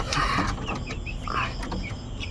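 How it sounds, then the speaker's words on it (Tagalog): Young chicks clucking softly amid a busy outdoor background, with short chirpy calls scattered throughout and no talking. "may mga manok dito"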